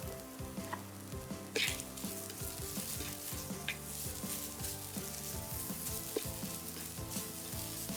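Onions caramelizing in a pan with a pinch of salt and powdered jaggery sizzle steadily and close. Stirring strokes scrape and clink through the frying at an uneven rhythm.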